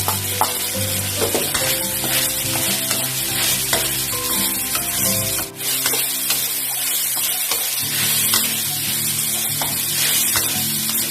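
Torn kaffir lime leaves and red chilies stir-fried in a pan for vegetarian green curry fried rice, a loud continuous sizzle with spatula scrapes and knocks against the pan throughout.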